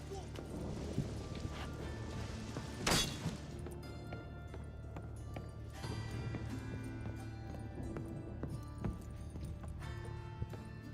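Horse hooves clatter in The Witcher 3 during a chase near Novigrad, a fairly loud running gallop mixed with a sharp crash and game voices talking over it.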